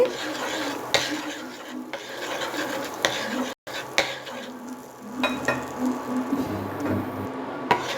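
Butter is spread across a hot tawa with steady scraping and rubbing strokes, accompanied by a soft sizzle and occasional light knocks, close and moderately quiet.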